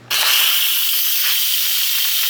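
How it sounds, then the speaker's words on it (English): A pressure cooker vents steam after cooking rice: one loud, steady hiss bursts on abruptly and keeps a constant, close rush without pause. "So it's just releasing all the steam"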